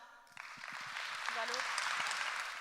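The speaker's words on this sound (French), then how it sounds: "Tonnerre d'applaudissements pour Marie Dara" Applause rises at a slam poetry performance for Marie Dara, a broad wash of clapping that swells and holds steady, with a few low voice-like tones briefly poking through.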